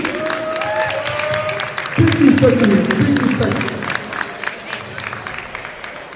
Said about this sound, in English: Please, an immense applause for Theo,